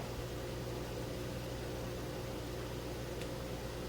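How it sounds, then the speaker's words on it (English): A microwave oven running on high with an unopened bag inside, a steady low hum and fan whir droning evenly throughout. "microwave on high for recommended cooking times based on wattage"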